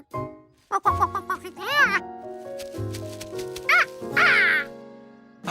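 Cartoon ducks quack around a duck nest with eggs, several bright honking calls in short bursts with gaps between, mixed with other animated animal and voice sounds.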